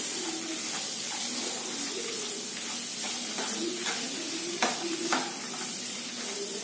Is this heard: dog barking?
no